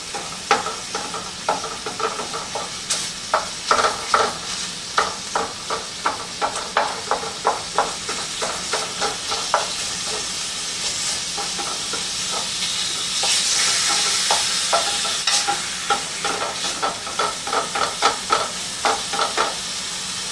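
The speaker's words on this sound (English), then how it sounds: "This is browning ground pork." Ground pork browns in a pan for a moo shu pork bowl, giving a steady sizzle with repeated scraping and stirring clicks at an uneven pace, close and fairly loud, and a brief rise of steamy hiss partway through.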